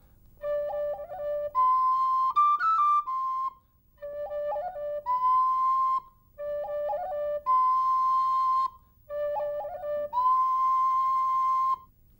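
An Irish tin whistle plays four repeated melodic phrases with rhythmic finger ornamentation, each phrase ending on a sustained note, clear and close with brief pauses between phrases and no talking.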